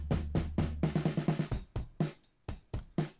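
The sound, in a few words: drum kit heard through room and overhead microphones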